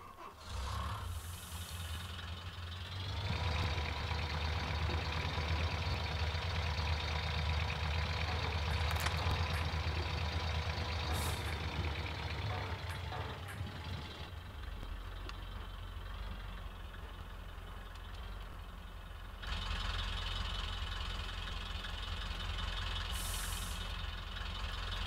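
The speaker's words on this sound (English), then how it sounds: "Actually, let's turn off the engine" A truck engine in the video game Gold Rush idles with a steady, loud roar, then drops to a lower rumble and swells again near the end. There is no talking.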